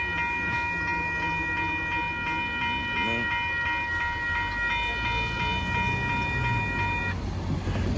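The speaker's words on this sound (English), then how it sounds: "there goes Amtrak" Amtrak Texas Eagle passenger train passing with a steady rumble of rolling cars and a sustained horn chord, heard from close by, with no voices.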